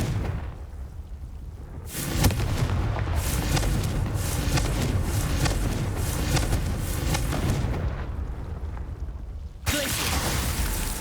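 Confringo fire spell blasts in Hogwarts Legacy, roaring fiery bursts that swell abruptly and rumble on for several seconds, then a second blast cuts in near the end, loud and close.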